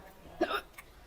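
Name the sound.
hiccup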